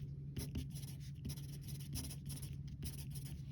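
A pen scratches across paper in short repeated strokes, a steady close scribbling with brief pauses between marks over a faint low hum.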